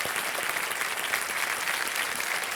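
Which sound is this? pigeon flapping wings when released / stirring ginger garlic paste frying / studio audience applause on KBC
studio audience applause on KBC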